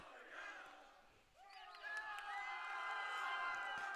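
Spectators at an Italy versus Germany under-20 rugby match raise a moderate, restrained cheer with scattered shouts and whoops from a distant stadium crowd.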